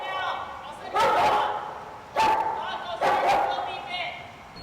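Police K-9 dogs bark in three loud, harsh bursts spaced about a second apart, close by, with a steady background noise under them.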